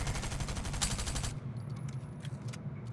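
Rapid automatic bursts from a Gunner Stinger SMG in Fortnite first-person mode, a dense continuous rattle that cuts off after about a second and a half, leaving quieter scattered shots and room tone.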